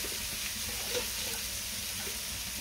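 Water goes into a pan of sautéed vegetarian mixed vegetables, producing a soft, steady hiss and sizzle with faint bubbling and stirring, heard close and fairly quiet throughout.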